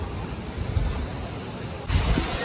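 Sea waves at Mandarmani beach, beside a seafront resort, roar as a steady broadband wash with wind noise; a louder surge rolls in near the end. No one speaks.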